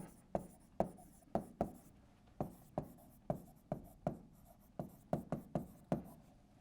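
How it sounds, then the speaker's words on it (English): Marker or chalk strokes on a board tap and scrape in short, sharp, irregular bursts, about fifteen distinct strokes close to the microphone in a quiet room. "I'm going to write it on the board."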